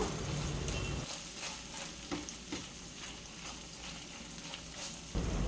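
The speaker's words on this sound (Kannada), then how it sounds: "ಒಂದು ಸ್ಪೂನಷ್ಟು ಶುಂಠಿ ಬೆಳ್ಳುಳ್ಳಿ ಪೇಸ್ಟ್ ಹಾಕ್ಕೊಂಡು ಅದರಲ್ಲಿರೋಂಥ ಹಸಿ ವಾಸನೆ ಹೋಗೋವರೆಗೂ ಚೆನ್ನಾಗಿ ಫ್ರೈ ಮಾಡ್ಕೋಬೇಕು" Ginger garlic paste fries with onions in a pan for an aloo peas kurma, giving a steady close sizzle with scraping stir strokes and no talk.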